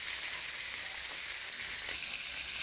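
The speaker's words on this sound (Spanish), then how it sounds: "Vamos a poner el pollo. Ya, dejamos sellar." Chicken sears in a hot wok with a steady, dense sizzle that holds evenly throughout, close and fairly loud, with no talking.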